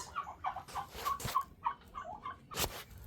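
A backyard chicken flock clucks inside a DIY coop, with a run of soft, repeated close clucks and murmurs mixed with a few sharper rustling scratches, no talk.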